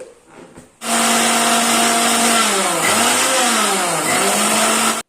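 A kitchen mixer grinder blending dry-roasted sesame seeds with a little water into paste starts abruptly and runs loud and steady, its motor whine dipping and recovering as the load shifts, then cuts off.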